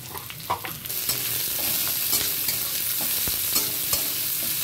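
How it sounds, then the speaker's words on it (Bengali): Chopped onions, dried chillies and bay leaves fry in mustard oil in a wok, a steady dense sizzle broken by scraping stirs and occasional sharp crackles, close and constant. "কড়াতে সরিষার তেল দিয়ে দিয়েছি, সাথে দিচ্ছি শুকনো লঙ্কা, তেজপাতা, পেঁয়াজ কুচি দিয়ে দিচ্ছি,"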